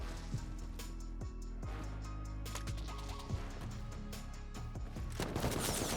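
AK rifle fire in the video game Rust comes as quick bursts of sharp cracks against a dense, busy game background, several volleys spread across the moment with a louder rattle near the end.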